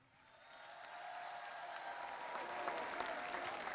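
A large outdoor crowd applauds a speech in Poland, sustained clapping swelling from quiet to a steady, distant roar with no talk over it.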